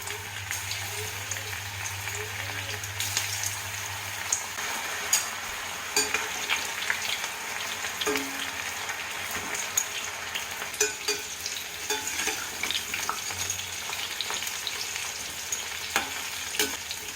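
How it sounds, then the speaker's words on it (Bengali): Raw banana pieces fry in hot oil in a wok, giving a steady close sizzle with occasional clicks and scrapes from stirring; no one speaks. "কড়াইতে তেল গরম করে আমি যে কুটে রেখেছিলাম এইভাবে এইগুলো আমি একটু ভেজে নেবো"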